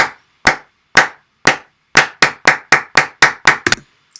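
Sharp clap samples in a music production session, loosely quantized so their timing drifts slightly; about twelve crisp hits, widely spaced at first and then closer together, ending in a quick flurry, each one dry and isolated against silence.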